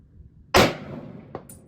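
A single sharp M1 Garand rifle shot cracks out loud and close, its echo trailing off, followed about three quarters of a second later by a faint distant ping from a 200-yard steel target being hit.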